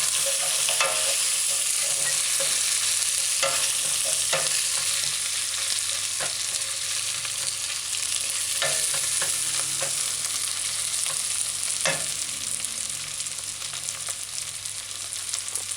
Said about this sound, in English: Just going to stir fry.